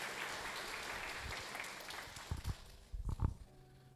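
Church congregation applauding during a Portuguese-language worship service, a steady wash of clapping that thins out into a few louder scattered claps near the end.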